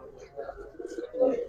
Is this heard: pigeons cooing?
yes